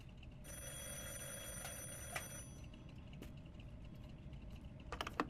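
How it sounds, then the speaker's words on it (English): Telephone in the video game Drive Beyond Horizons ringing: a thin, high electronic trill repeating for a couple of seconds over steady low rumble, followed by faint clicks and a brief burst near the end. "Wait, that phone was ringing."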